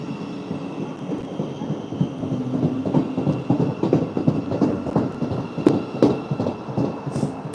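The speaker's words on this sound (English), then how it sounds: "my train has come" A train pulls into a station with rumbling, rhythmic clickety-clack from the wheels and carriages rolling past close by, and the noise builds and stays steady with no voices.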